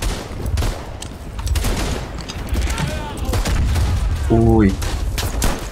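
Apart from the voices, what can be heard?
gunfire in WWI Verdun video game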